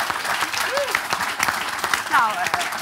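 A studio audience applauds a singer on a live talk show, with sharp clustered claps running throughout while voices talk over the clapping.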